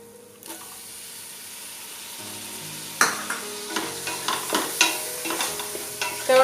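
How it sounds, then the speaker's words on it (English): Tomatoes frying in a pan are stirred with a utensil, producing a rising sizzle followed by a run of sharp, rhythmic scraping and clinking strokes, near and loud with no talking. "Stir them well."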